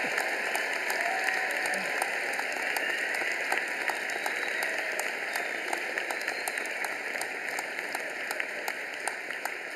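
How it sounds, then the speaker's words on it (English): Audience applause for graduates at a University of Alberta fall convocation, dense, sustained clapping from a large crowd in a hall, steady and even for the whole stretch. "I think this moment merits a standing ovation"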